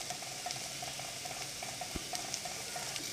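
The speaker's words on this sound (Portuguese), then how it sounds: "O açafrão eu sempre gosto de deixar dar uma fritada, então coloca assim no fundinho da panela." Turmeric fries in the bottom of a cooking pot, a faint, steady crackling sizzle with small, scattered pops that runs continuously.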